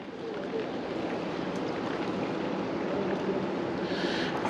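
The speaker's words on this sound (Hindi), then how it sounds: "और ग्लेशियर के मूव होने की आवाज़ आप यहाँ पे सुन सकते हैं।" Meltwater from the Gangotri glacier pours out at Gaumukh, the source of the Bhagirathi river, as a steady, loud, close rushing roar with no break.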